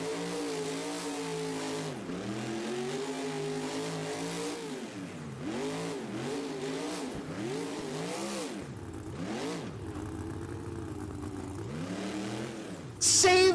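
Monster truck engine at a Houston NRG Stadium freestyle event, revving hard in repeated rising and falling bursts for the whole stretch, loud and close, with a commentator talking over it.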